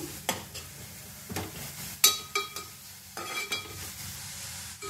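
Onions sautéing with salt in a pan give a soft, steady sizzle broken by intermittent scraping and stirring strokes, close by, with no talking.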